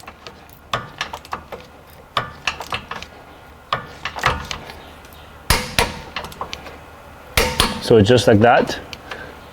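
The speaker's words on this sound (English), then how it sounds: "Now we're going to torque this one over here." Torque wrench tightening rear wheel hub bolts on an Acura MDX during a wheel bearing job, sharp metallic clicks and clanks in bursts followed by a ratcheting rattle near the end, close, with someone speaking briefly.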